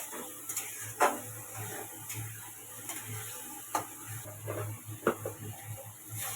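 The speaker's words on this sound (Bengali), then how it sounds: "এবার এটাকে ভালো করে কষিয়ে নেব।" Masala for Kargil fish curry is stirred and sautéed in a pan, with soft sizzling under scattered scrapes and taps from the spoon at an irregular pace. The sound is close but fairly quiet, and no one speaks.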